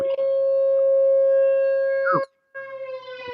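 A loud, steady wailing siren tone holds for about two seconds, sweeps downward and cuts out, then resumes at a lower level. It sounds like a civil defense or outdoor warning siren heard near a hemp shop.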